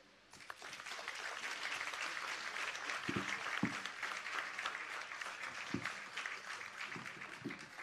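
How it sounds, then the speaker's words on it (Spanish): Sustained applause from an audience at a Spanish-language academic talk, broad steady clapping filling the whole stretch with a few louder individual claps standing out. "fuerte aplauso para nuestros tres expositores"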